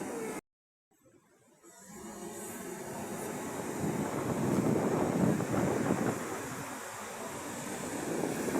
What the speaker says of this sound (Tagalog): Grabe ang alon no?